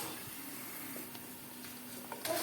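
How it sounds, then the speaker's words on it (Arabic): Rice sizzles faintly in a pan as it is fried toward golden for a peas-and-carrots dish, a soft, steady hiss with a few small crackles near the end. "نحمر الرز ونرجع نشوف"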